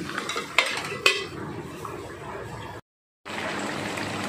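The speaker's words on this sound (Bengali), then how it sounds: "নেড়ে আমি কিন্তু 2 মিনিট ঢাকনাটা চাপা দিয়ে দিচ্ছি।" A metal spoon clinks twice against a cooking pot while a spiced dish is stirred, followed by a soft scraping shuffle, a short silent gap, then a steady low kitchen hiss.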